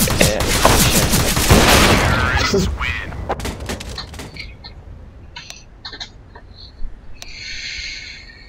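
Gunfire in a CS:GO competitive match, with a dense burst of shots up front fading into sparse, sharp single cracks and a few faint electronic blips as the action thins out.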